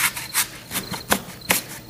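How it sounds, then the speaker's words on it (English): Crickets chirp in scattered short rasping bursts, about five pulses with uneven spacing, close and moderately loud, alone without voices. "Crickets, right?"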